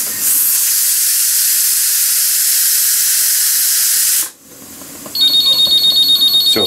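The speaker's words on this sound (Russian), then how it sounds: "Все, таймер зазвенел." A loud, steady hiss of steam from a pressure cooker on a home stove, cooking Indian food, cuts off abruptly. Then a kitchen timer rings in quick, evenly pulsed high beeps.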